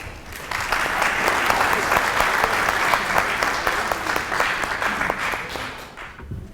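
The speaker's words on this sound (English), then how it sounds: "Yeah, let's applaud" A forum audience at a peace forum session applauds a speaker welcomed to the stage, with crisp individual claps in a lively steady rhythm that swells, holds, then tapers off near the end.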